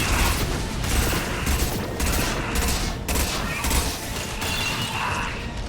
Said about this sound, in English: Firing anti-ship batteries at collector vessel.